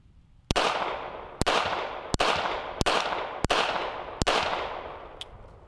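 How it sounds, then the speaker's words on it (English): Gunshots are fired downrange at a shooting range, about seven sharp, loud cracks spaced roughly a second apart, each followed by a long rolling echo that decays before the next shot. "put a few shots downrange and warm up."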